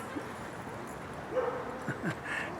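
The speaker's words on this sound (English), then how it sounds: "Don't wait to listen to the dogs here." A few short dog barks and yips, fairly faint and distant, scattered over a quiet background.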